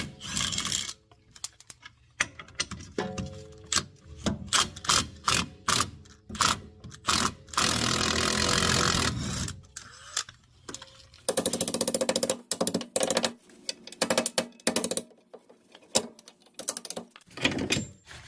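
Ratchet wrench loosening suspension nuts and bolts on a 2016-or-later Kia Sorento with a sagging rear air suspension, heard as close, loud runs of rapid clicking in bursts separated by pauses, with no talk.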